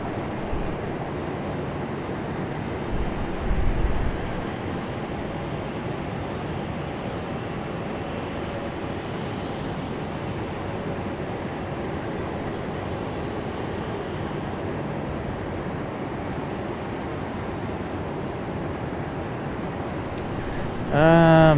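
A JetBlue Airbus A220 at Raleigh-Durham airport, heard as a steady, moderately loud, distant engine rumble that continues throughout, with a brief sharp tone near the end.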